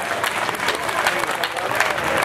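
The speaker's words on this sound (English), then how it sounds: "Give yourselves a round of applause." A crowd at a live band show claps briefly and loudly, a dense, steady burst of applause close to the listener.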